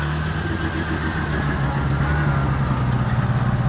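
A BMW E30 Alpina B3 2.7 idles steadily just after starting, a deep, even burble with a low hum running continuously and close by, with no talking over it.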